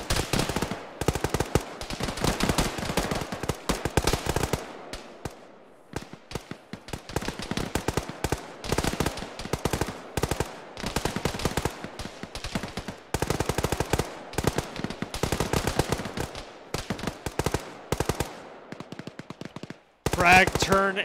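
Gunfire in the military game Arma: repeated close bursts of automatic fire and single shots, loud and rapid, with brief pauses between volleys and no clear talk.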